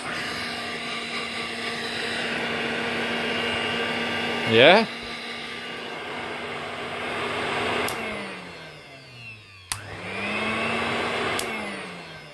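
A vintage household vacuum cleaner runs steadily with suction, a loud even motor drone that dips briefly and spins back up; a voice speaks once over it.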